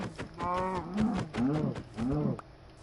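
Minecraft cows moo three times in succession, drawn-out and close, with short gaps between the calls and no talk.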